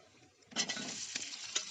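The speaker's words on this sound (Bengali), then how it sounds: "ফোড়নটাকে ভাজা হয়ে গেলে ওর মধ্যে দিয়ে দেবো কেটে রাখা আলু।" Cut potatoes drop into hot oil tempered with whole cumin and a split dried red chilli, bursting into a sudden loud sizzle that keeps crackling, with a stirring scrape and brief spikes as they are moved.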